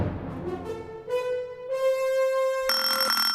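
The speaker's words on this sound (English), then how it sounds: "That was part of a recording of his third symphony conducted by Leonard Bernstein" An orchestral excerpt from Copland's Third Symphony, conducted by Leonard Bernstein, with sustained tonal notes building into a bright, held chord, and no voices.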